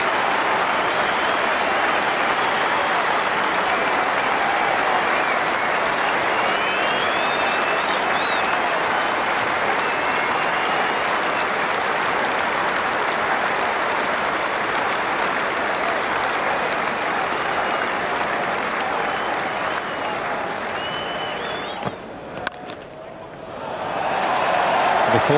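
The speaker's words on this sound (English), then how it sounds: "Huge cheers from the crowd here at Lord's." A large cricket crowd at Lord's in late afternoon sunshine applauds Andrew Strauss reaching 150 for England against Australia in the 2009 Ashes second Test. The clapping is loud, dense and sustained, then thins and fades near the end.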